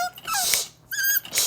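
A Basenji dog in a crate whimpers close by in two high, wavering whines separated by a short pause.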